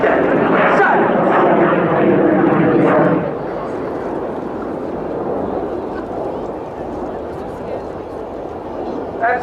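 Frecce Tricolori solo jet performing an aerobatic display at an air show: a loud, close jet roar for about three seconds, then a steadier, quieter engine rumble as the aircraft moves away.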